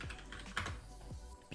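Rapid typing on a computer keyboard, close and fairly quiet, with a steady patter of key clicks running for about a second and a half and no voices.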